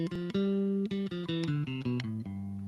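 A bass guitar runs through the G Mixolydian mode, about a dozen separate plucked notes in a steady, brisk sequence, ending on a held low note, up close and alone.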